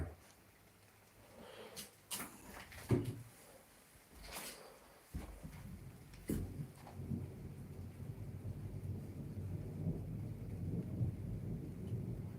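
Low rolling thunder rumbles through a rainstorm, with a few sharp cracks early on, then a sustained heavy roar building and holding over steady rain.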